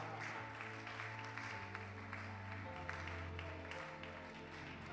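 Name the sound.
audience applauding a graduate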